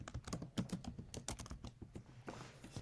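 Close computer keyboard typing in quick irregular bursts of clicks and clacks, with short pauses between runs and no talking.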